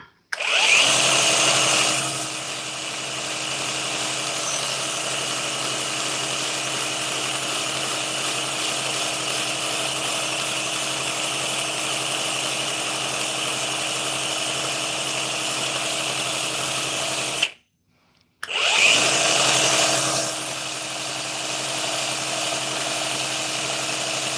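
A belt sander runs continuously at steady volume with a bright whining hum, cutting out briefly near the end before starting up again.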